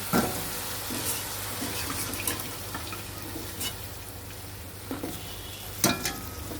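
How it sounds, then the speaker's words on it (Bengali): Tulumba jalebi frying in hot oil produces a dense, continuous sizzle up close, punctuated by occasional utensil taps and scrapes, with no talking. "এভাবে আমরা সবকটি জিলিপি ভেজে নেব"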